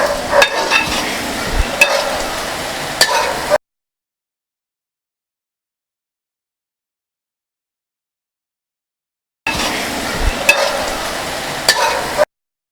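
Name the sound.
stirring chicken perattu with curry leaves sizzling in pan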